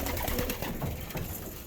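Racing pigeons coo softly inside a loft, their low murmurs blending into a dense, close rustle of birds.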